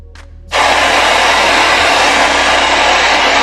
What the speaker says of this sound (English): So I'm going to blow dry now.